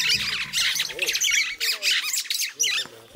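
A speckled mousebird calls from a tree in arid Tanzania, loud harsh squawking bursts in quick succession, close and dominant, with faint chirps between.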